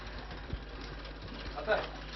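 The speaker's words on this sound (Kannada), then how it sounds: "ಟ್ರ್ಯಾಕ್ಟರ್ ಬಂತು" A tractor engine idles quietly in the background, a low steady chugging rumble with a couple of soft knocks.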